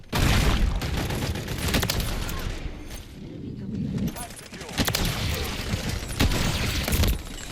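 Rapid SMG gunfire in Call of Duty: Modern Warfare III, loud bursts of shots with explosions and impacts filling the match, a voice talking over the action throughout.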